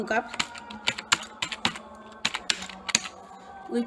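A computer keyboard clatters as a file name is typed, with irregular bursts of crisp keystrokes close up and quiet, while a voice talks underneath.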